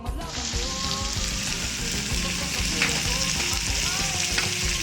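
Sliced bitter gourd sautéing with garlic and onion in a pan, a loud, continuous close sizzle with light stirring scrapes throughout and no talking.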